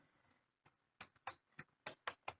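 Keys on a computer keyboard clack in a quick, uneven burst of about eight close, crisp taps, with no voice over them.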